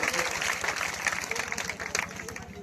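A crowd at an election campaign rally in Kaimur, Bihar claps steadily and loudly for a welcomed party member, dense applause carrying on throughout with a voice over the PA underneath.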